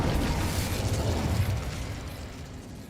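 Fire spell cast in the Hogwarts Legacy video game, a loud roaring burst of flame that sustains for about two seconds and then slowly fades, with no voices over it.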